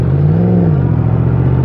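A Yamaha MT10 roadster motorcycle accelerating while being ridden, its engine note rising then easing into a steady loud drone with road rumble, heard alone.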